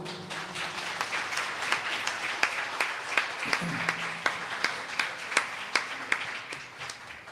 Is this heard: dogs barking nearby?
no